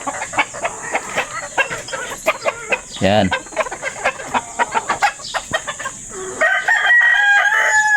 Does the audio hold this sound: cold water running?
no